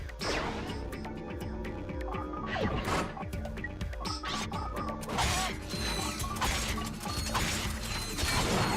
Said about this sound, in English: You just have to use your wrench to get it up like that, and then you destroy it like that.